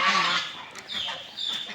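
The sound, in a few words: ducks quacking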